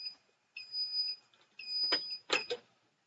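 An MPress heat press gives two loud, sustained electronic beeps in a high steady tone, with brief rustling handling noises in between.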